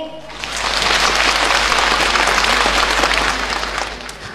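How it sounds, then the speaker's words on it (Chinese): Audience applause fills a Yue opera concert hall at a celebratory performance at Shanghai's Tianchan Yifu Theatre, a dense, sustained clapping that swells quickly and holds steady before easing off near the end. "让我们伸出热情的双手，让我们用掌声预祝今天的演唱会圆满成功"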